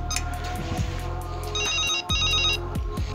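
Phone ringing tone heard while a call is placed, a clear electronic tone repeating in regular pulses for a few seconds, loud and close with no one talking.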